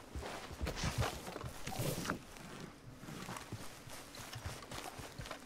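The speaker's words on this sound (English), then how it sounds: "Like we got a new horse." A horse walks in Red Dead Redemption 2, its hooves giving a soft, fairly even clip-clop that is quiet and slightly distant, with faint game ambience behind it.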